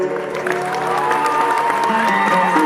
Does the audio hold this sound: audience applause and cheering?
yes